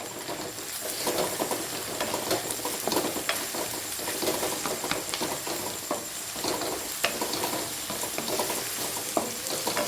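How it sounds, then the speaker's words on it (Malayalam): Crushed ginger, garlic and green chili sizzle as they are sautéed with onions in a pan for a Kerala-style duck roast. The frying crackle is steady and close, with occasional stirring scrapes and no voices. "നമ്മൾ ഇഞ്ചി വെളുത്തുള്ളി പച്ചമുളക് ചതച്ചത് അങ്ങോട്ട് ഇട്ട് കൊടുക്കുകയാണ്"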